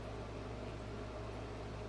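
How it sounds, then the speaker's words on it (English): A home air conditioner hums steadily in the background, a faint, even droning buzz with no speech over it. "If you guys hear like a buzzing or like a sound in the background, that's our AC."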